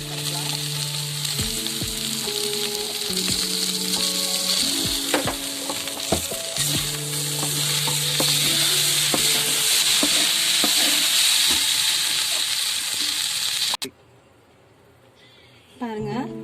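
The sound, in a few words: rice being stir-fried for paneer egg fried rice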